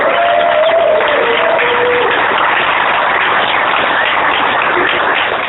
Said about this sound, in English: So let's give him a real round of applause